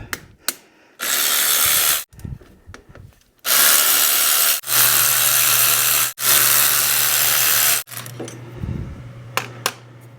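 Ratchet wrench loosening bolts on a golf cart engine head, several loud bursts of rapid clicking separated by short pauses and metallic clanks, close up with no talking.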